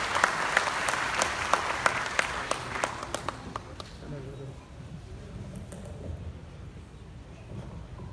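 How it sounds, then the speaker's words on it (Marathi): An audience of entrepreneurs at a stock-exchange hall bursts into loud, sharp clapping that thins out and fades after a few seconds, leaving room noise. "जरा जोरदार टाळ्या डॉक्टर अमित बागवे."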